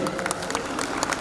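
Applause from an audience at a school annual day function, a short burst of dense, steady clapping heard at moderate distance with crowd murmur mixed in.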